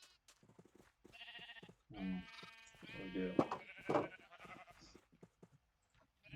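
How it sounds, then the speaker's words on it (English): Sheep bleating in Minecraft, several wavering blocky bleats in quick succession, close and fairly loud against quiet surroundings. "These sheep need water still"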